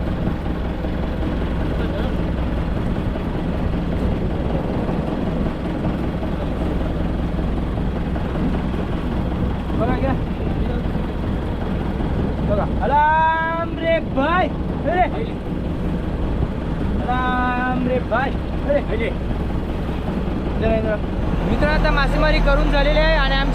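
A fishing boat's motor runs steadily far out on the deep sea, a constant loud drone throughout, with people talking over it and more voices near the end.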